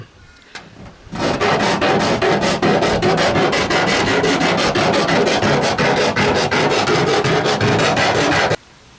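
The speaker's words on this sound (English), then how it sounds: "now I can take a file and try to clean up these edges a little bit" Close, loud rasping as a metal file scrapes back and forth across raw cut metal edges for a van roof vent fan install, in quick even strokes that begin after a short pause and stop abruptly.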